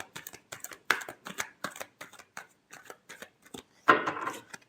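Tarot cards shuffled by hand, a quick run of soft riffling flicks and taps close by, ending in a louder burst as the deck is squared up, quiet with no talking.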